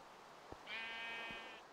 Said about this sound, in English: Hey, sheep, come back here.